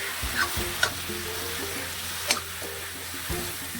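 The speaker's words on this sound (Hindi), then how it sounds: "इसको हम अच्छे से भून लेंगे" Ground bhatt (black soybeans) roasting in a pan over low heat, giving a steady soft sizzle broken by a few scraping stirs and light clicks, with no talking.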